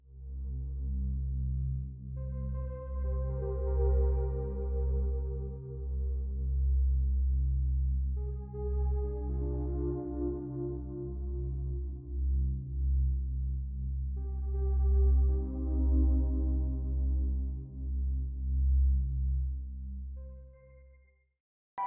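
High synth notes with heavy reverb from Ableton Live, a slow sequence of sustained bright tones with long ringing tails over a deep steady bass drone, clean and alone with no talk.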